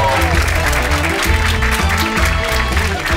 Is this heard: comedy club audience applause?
yes